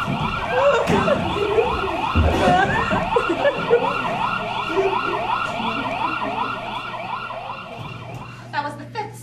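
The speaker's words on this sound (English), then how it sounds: "That was the fifth siren in the last hour." A siren wails in a steady rising and falling pattern, fairly close and loud, over background traffic noise.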